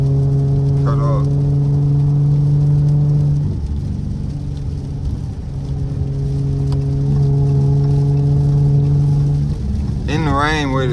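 Straight-piped Dodge SXT engine droning and revving steadily while driving in the rain with traction control off, a loud, continuous exhaust tone that dips briefly and then builds again.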